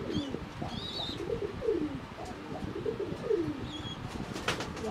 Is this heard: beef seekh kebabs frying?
no